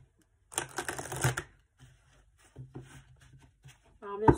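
Oracle cards are shuffled in a brisk papery burst, followed by softer handling rustles and a few faint taps as a card is drawn.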